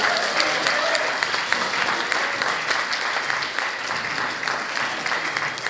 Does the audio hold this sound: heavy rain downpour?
no